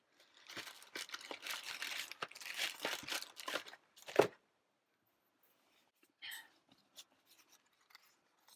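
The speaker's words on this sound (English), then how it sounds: "So I shall cut another happy to go on top." Scissors snipping through white card for a Sizzix Going Bananas swing fun fold card, a run of close crisp cuts and paper rustles, then one sharp snip and a few soft handling sounds after a pause.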